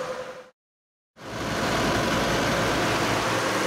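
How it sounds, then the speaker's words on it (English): Recycled plastic lumber extruder with its screw and barrel running in an Alberta plastic lumber shop: a steady loud mechanical drone and rumble that cuts out briefly, then returns and holds evenly. "This is the screw and barrel, and this actually melts the plastic."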